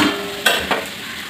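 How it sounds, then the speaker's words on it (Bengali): A pointed gourd and potato curry cooks in a pan, giving a soft sizzle under two sharp, close scrapes of a spoon stirring against the pan, with no one talking. "এই যে পটল আলুর তরকারি বসিয়েছে মা।"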